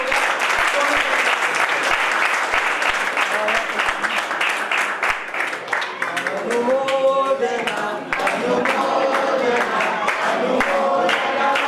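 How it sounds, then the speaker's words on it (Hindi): Applause rises from a crowd at a felicitation ceremony at Pachane Tirth, honouring rank holders. The loud, sustained clapping fills the whole stretch, with some voices and cheers mixing in partway through. "एक बार जोरदार तालियां हो जाए।"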